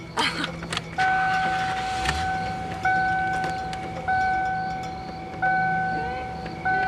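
Movie foley of a car: a repeated two-tone electronic ignition chime pulses several times over the rumble of the engine starting and the car pulling away, fairly close and steady.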